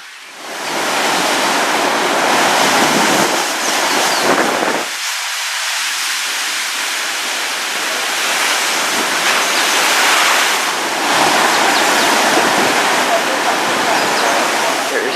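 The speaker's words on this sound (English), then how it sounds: "a wave just crashed right here" Ocean waves crash onto the shore in Barbados, a loud, close roar of surf that surges and sustains for several seconds, dips briefly, then builds again in continuous rushing water.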